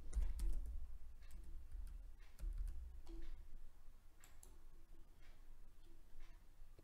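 Typing on a computer keyboard, a close stream of light irregular key clicks and taps with occasional heavier keystrokes over a low background hum.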